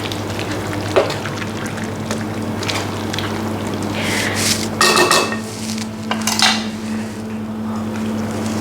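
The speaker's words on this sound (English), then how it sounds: "we're just going to stir them through gently" Snow peas are gently stirred through an Asian hot pot with a spoon, soft scraping and clinks against the pot over a low steady hum, with a few louder knocks and rattles midway.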